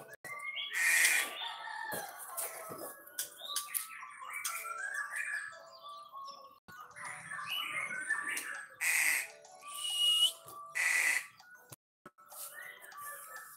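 Short bursts of bright chirping from a small caged bird, nearby, coming in irregular clusters with brief pauses and some faint ticking between calls.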